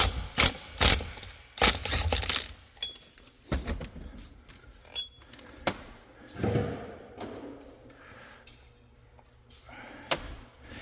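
An acorn nut is worked off a leaking sprayer pump's impeller: scattered close metallic knocks, thuds and clanks arrive irregularly, some sharp and loud, others dull and faint.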